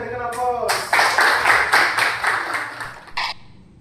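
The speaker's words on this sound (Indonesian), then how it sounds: "Oke, berikan aplaus." Classroom students break into a burst of applause, dense clapping that swells and fades over a few seconds, preceded by a brief voice.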